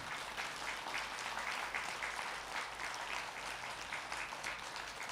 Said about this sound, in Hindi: जोरदार से तालियां बजाएंगे ध्यान संगीत के लिए।